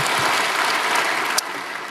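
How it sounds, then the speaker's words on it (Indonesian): A church congregation claps together in a dense, sustained burst of applause, loud and fairly close, easing slightly after a sharp peak near the end. "Berikan tepuk tangan kita untuk Tuhan kita."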